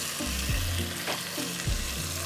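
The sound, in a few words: tomatoes sizzling as they are added to frying pan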